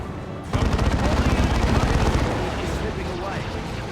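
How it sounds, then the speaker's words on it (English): Rapid automatic fire from an assault cannon in the Warhammer 40,000 game Dawn of War 2, cutting down guardsmen: a dense, loud stream of gunfire that starts abruptly and rolls on continuously, easing slightly toward the end. "Very inefficient way to kill guardsmen with the auto attack of a assault cannon."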